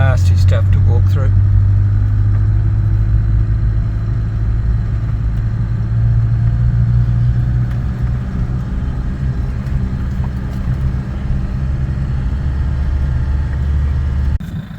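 A vehicle driving off the road along a dirt track through spinifex and salt-lake country near Murray Sunset gives a loud, steady, close engine rumble that holds for the whole stretch, with a brief rattle near the start.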